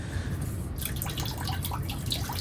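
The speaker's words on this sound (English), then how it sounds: "You can see how it's kind of like gurgling in there." Water gurgles and trickles through a Blumat drip watering line as air bleeds out, a close, steady wet burbling with faint drips and no voices.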